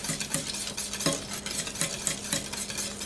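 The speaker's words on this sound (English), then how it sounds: "whisk it just a little bit" Custard for a traditional Southern banana pudding being whisked off the heat, with quick rhythmic scraping strokes of the whisk against the pan, close and moderately loud, no talking.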